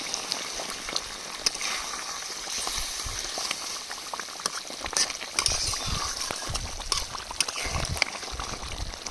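Doi katla, a fish curry cooked in spiced yogurt gravy, simmers in a covered pan, giving a steady soft bubbling and crackle with scattered sharper pops, close and moderately loud throughout.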